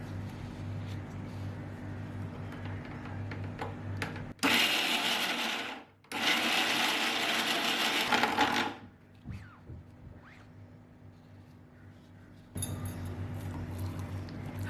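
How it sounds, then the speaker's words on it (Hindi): A loud mixer grinder grinding hummus whirs in two bursts with a short pause between, then stops; after a quiet gap with faint handling noises, it roars again briefly. "मिक्सर ग्राइंडर का जार बंद करके हम इसे ग्राइंड कर लेंगे।"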